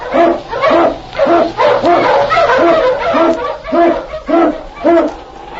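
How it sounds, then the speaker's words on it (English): Sled dogs including a husky lead dog bark and yip in a rapid, regular series of loud close barks, with a whine mixed in, set in a vintage radio drama about the Yukon. "King, the swiftest and strongest of Eskimo lead dogs, blazes the trail through storm and snow for Sergeant Preston"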